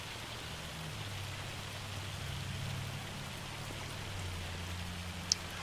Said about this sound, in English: The sun is out, nice and shiny, and it's raining.